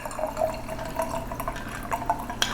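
A shaken red cocktail made with grenadine pours over ice into a glass, a close trickle of liquid with small splashy drips and a light clink near the end.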